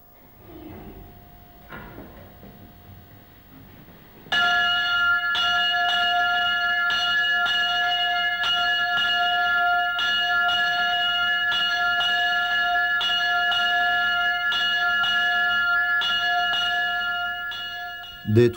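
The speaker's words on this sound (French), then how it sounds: "la cloche réveille les moines et les amène à l'église pour l'office le plus long de la journée" A monastery bell at the Trappist abbey of Sept-Fons rings before dawn to wake the monks, its tones coming as a loud, resonant, steady series of strokes after a quieter start, each stroke ringing on.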